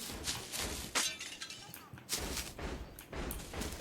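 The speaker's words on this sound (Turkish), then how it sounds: "Camı niye kırıyor ya?" Glass windows shatter in the video game Hello Neighbor: a run of loud, sharp crashing bursts about every half second to a second, with brief gaps between them.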